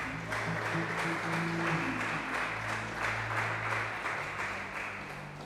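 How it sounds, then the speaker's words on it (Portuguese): A church congregation applauds during an evangelical worship service, broad steady clapping over sustained organ or keyboard tones, loud at first and gently fading toward the end. "Vamos aplaudir a Jesus"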